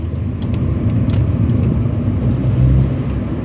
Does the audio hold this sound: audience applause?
no